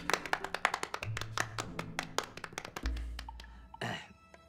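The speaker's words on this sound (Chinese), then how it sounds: "鼓掌。" Scattered applause from a small group at a police station gathering, a quick run of sharp hand claps, close and fairly loud, that thins out and stops after a few seconds.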